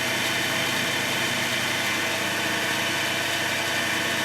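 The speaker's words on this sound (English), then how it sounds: "here we are, somewhere around 1400 RPM, and the motor is not speeding up like with the universal motor" An electric motor spins on a dyno test stand at around 1400 RPM, giving a steady, dense, unbroken hum with no speech.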